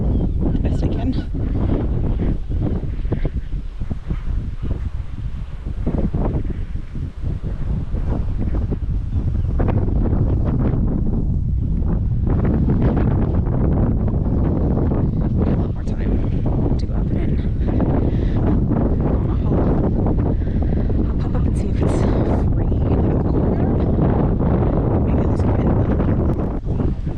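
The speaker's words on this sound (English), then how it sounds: "It's really windy." Strong wind on a hill at Alnwick Castle buffets the microphone in loud, continuous low rumbling gusts for about half a minute, rising and falling slightly, with a voice faintly underneath.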